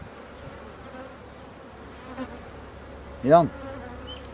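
Honey bees buzzing around a beehive, a faint steady hum with one insect passing close near the end; a single short word is spoken.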